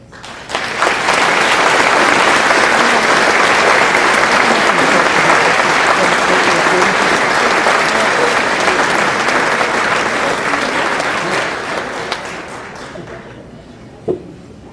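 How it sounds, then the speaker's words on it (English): A chamber of commerce gala audience applauds after a speech with a loud, sustained burst of clapping lasting over ten seconds, then tapering and fading near the end, followed by a single sharp knock. "One more round of applause"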